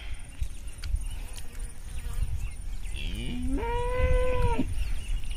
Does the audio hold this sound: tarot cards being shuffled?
no